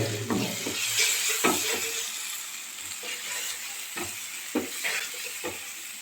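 An onion, tomato and turmeric spice paste sizzles in a pan while a spoon stirs it in a repeated rhythm of scraping bursts over a constant hiss, heard up close with no talking.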